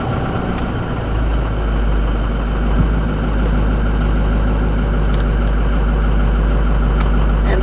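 A German diesel cargo van engine idles as it warms up, giving a constant deep rumble with a light clattering beat that stays loud and close throughout, with no one speaking.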